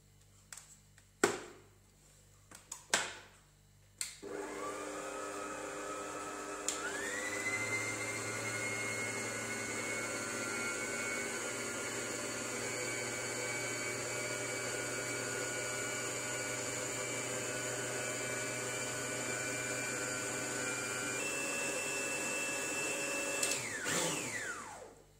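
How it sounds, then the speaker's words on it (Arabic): After a few knocks, an electric mixer whirs steadily on cake batter for about twenty seconds, its motor pitch shifting slightly partway through, before clicking off. "انا غادي نخلطهم في البيترا"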